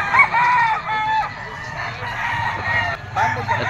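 A two-year-old white-legged Golden Boy gamefowl rooster crows loudly and close by, its drawn-out call rising and falling across the whole stretch, with a steady hum of other birds behind it.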